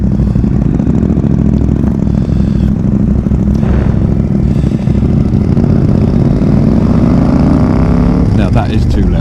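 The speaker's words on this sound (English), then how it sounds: "this one will be obnoxiously loud because I've taken the baffle out" A loud, rumbling KTM Duke 790 motorcycle engine with the exhaust baffle removed and decatted, revving and idling close by, deep and harsh, rising in pitch toward the end.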